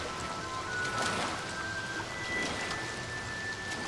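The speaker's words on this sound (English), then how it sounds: "Enjoy the rain as it falls on us." Steady rain falls in the video game Oblivion Remastered, a soft continuous patter with no voices.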